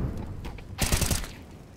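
A short burst of rapid gunfire in Counter-Strike on the Vertigo map during a competitive esports match, sharp cracks over a quiet in-game background.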